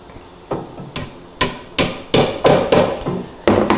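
Sharp hammer blows drive a glued dowel into wood about nine times, speeding up into a steady rhythm, each hit ringing briefly and close.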